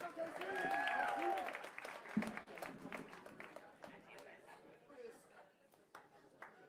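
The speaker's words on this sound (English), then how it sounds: "A huge round of applause for Casey Crawford" Comedy club audience at a Boston comedy festival gives a round of applause as the next comic, Casey Crawford, comes up; the clapping is loudest at first, then thins and fades under continuing talk.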